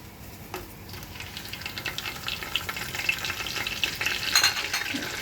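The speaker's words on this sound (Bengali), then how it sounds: "এক টেবিল স্পুন জিরার ফোড়ন দিয়ে দিলাম দিয়ে দিচ্ছি তেজপাতা" Cumin seeds and bay leaves sizzle in hot oil for khichuri, a steady close crackle with a stirring spoon scraping through it, no talking.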